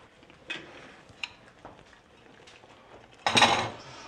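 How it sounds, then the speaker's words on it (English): Chicken cutlets set back into a sauce pan for piccata, giving a brief loud clatter and scrape of metal near the end, after a few soft clinks of cookware. "I'm gonna put my cutlets right back into that pan"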